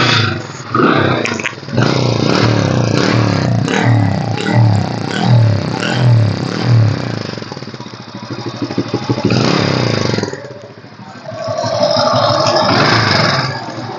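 A 2005 Hero Honda CD Dawn Deluxe motorcycle starts up and runs close by, its engine idling loudly with rough clattering, revving up and down, briefly dipping, then roaring again.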